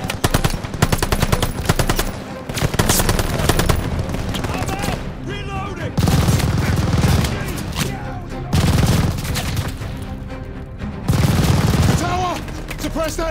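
Machine gun fire in Call of Duty: Vanguard, a World War II setting, rattles in long loud sustained bursts with heavy booms between them, and voices shout over the battle.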